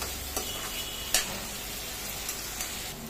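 Jackfruit pieces frying with spices in a pan, a steady close sizzle broken by a few sharp scrapes and knocks of a spoon stirring, no voices.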